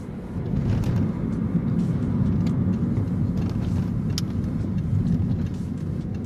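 A Toyota Prius 2 accelerating firmly on a ring road, its engine a steady, loud low drone with road and wind noise inside the cabin, continuous throughout.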